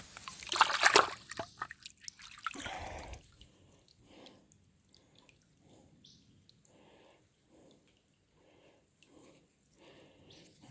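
A dovetail drill bit rinsed in a shallow creek, with soft rhythmic trickles and drips of water recurring at a steady pace after a louder splashing burst at the start.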